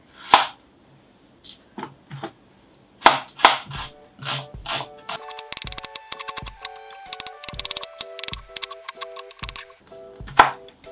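A knife chops onion into small pieces on a board. Sparse single cuts come first, then a quick run of close, crisp chops.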